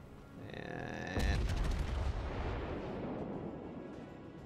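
A naval gun salvo from a warship in World of Warships, a sharp heavy boom followed by a long rumbling roll. A brief tonal game alert sounds just before it.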